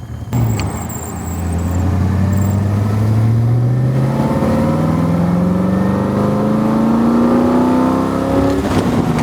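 A 1961 Daimler SP250 Dart with a slightly sticking throttle cable is driven. Its engine note is loud and close, climbing steadily in pitch as the car accelerates, with no talk over it.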